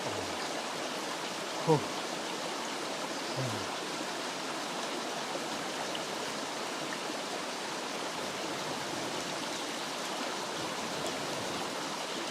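A forest stream in a cold woodland creek flows steadily, a continuous broadband rush of water heard close and alone, with a couple of brief low knocks early on.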